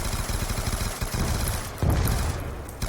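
Rapid bursts of automatic gunfire from a Call of Duty Black Ops 2 Zombies match, loud, dense, and close, firing continuously for about three seconds with a heavier boom near the middle.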